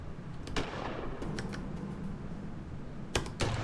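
Quiet gunshots from the game Gemini Rue: a couple of sharp, thin cracks early, then a tighter pair near the end, each short and snappy over a low steady background.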